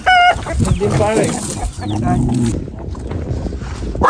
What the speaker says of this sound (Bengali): এখানে হইল গিয়া দেশি মুরগিগুলা এইভাবে সাইরা সাইরা রাখে